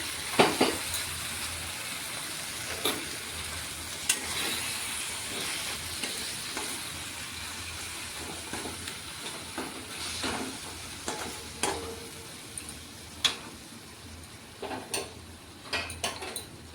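Mango chutney sweetened with jaggery simmering in a pan, a low bubbling sizzle broken by scattered sharp clinks and scrapes of a spoon stirring against the metal, no voices.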